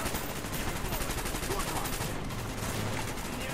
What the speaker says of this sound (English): There's just so many bullets, so many gunfights going on.